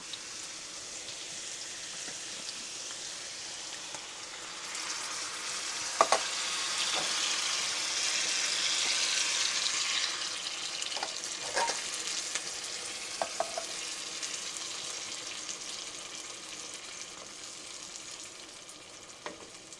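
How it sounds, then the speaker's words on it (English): Diced tomatoes, peppers and onions with their liquid sizzle and simmer in a skillet, a steady broadband hiss throughout with a few light clinks of a utensil against the pan, no talking. "I'm going to add them to the skillet with their liquid so that we get the peppers and onions"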